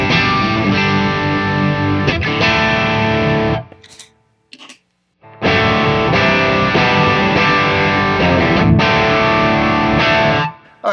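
An electric guitar played through an overdrive pedal, loud chords ringing with gritty distortion, stopping briefly for a short pause with a few faint plucks before the same strummed passage returns.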